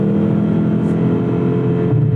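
A Mazda CX-50 Hybrid's engine pulls under acceleration, a steady, droning hum from inside the cabin that holds a flat, continuous pitch throughout.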